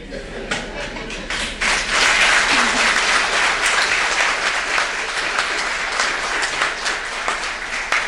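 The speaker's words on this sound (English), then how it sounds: "Another round of applause." A seminar audience gives sustained applause after a business presentation, a dense, steady wash of many hands clapping throughout, loud and close, with a few voices faintly mixed in.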